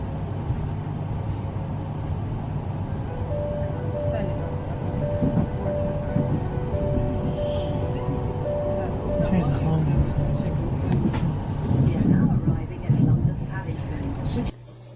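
A train pulls into London Paddington, a steady low rumble and rolling rail noise with a faint tonal whine, continuous and close from inside the carriage, the sound cutting off sharply at the end.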